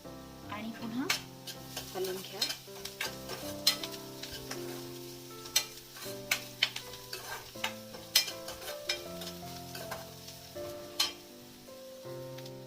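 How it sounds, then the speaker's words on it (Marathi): Onion and crushed garlic fry in a pan for a flower vegetable dish, with a soft sizzle beneath repeated close scraping and stirring clatter of a spoon against the pan, plus intermittent background music. "कांदा लाल झाला की त्याच्यामध्ये थोडीशी हळद मिक्स करा आणि चांगलं परतून घ्या"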